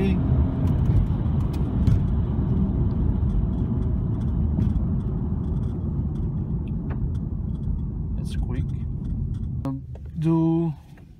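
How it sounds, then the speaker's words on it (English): A 400 hp Lincoln MKZ AWD 3.0L in sport mode with windows closed and two passengers on board, heard from inside the cabin as it accelerates hard at full throttle, a steady loud engine and road roar; a voice speaks near the end. "Gonna do 0 to 60 right now."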